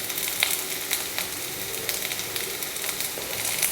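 Sliced bitter gourd sautés in a hot pan with a steady, moderate hiss and scattered light crackles and pops, heard close and alone without talk.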